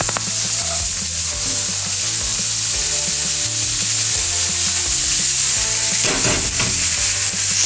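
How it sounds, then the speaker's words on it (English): Carrot and swede pieces fry in a pan with celery and onion, a loud steady sizzle close by, punctuated by occasional stirring scrapes and clatter, no voices. "So I'm going to add that now to the frying."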